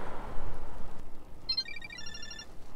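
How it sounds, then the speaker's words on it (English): An incoming call in a video game sounds as a phone ring, a series of rapid electronic chirping tones repeating in quick bursts, fairly faint over a low background rumble. "Oh, getting a phone call."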